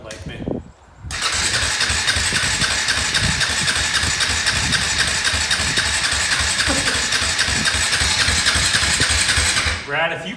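A quad ATV engine catches after a brief pause and runs loudly and steadily near the microphone for about nine seconds before cutting off, with voices talking over it.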